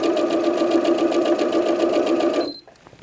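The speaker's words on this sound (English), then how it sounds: "we're just going to chain sew those together" A sewing machine chain sews quilt patches together with a quarter-inch seam, buzzing in a fast, even stitching rhythm up close before stopping sharply near the end.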